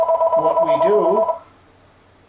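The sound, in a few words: telephone ringing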